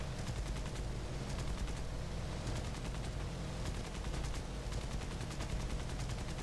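A biplane's machine guns fire in short rapid bursts in the aerial combat game War Thunder against a Blenheim bomber, the rattling volleys repeating over a steady, loud engine drone.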